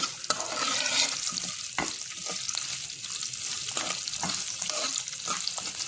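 Peeled garlic and ginger sizzle steadily in hot oil in a pan, with a scraping spoon stirring it in scattered clicks.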